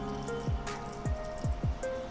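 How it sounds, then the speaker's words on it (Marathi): Hot water is poured into a flour mixture for dough, heard as a handful of distinct liquid drips and plops over a faint steady hum, close up, with no speech. "मी जवळपास 1 ते सव्वा वाटी गरम पाणी यामध्ये काढून घेते"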